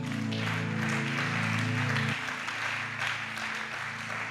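A church congregation applauds during a worship service, a broad steady wash of clapping mixed with sustained musical tones and a few voices, continuous throughout.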